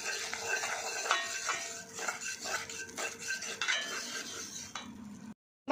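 Maida flour is stirred and roasted in oil in a pan, with a spatula steadily scraping and clinking against the metal close up before a sudden cut to silence.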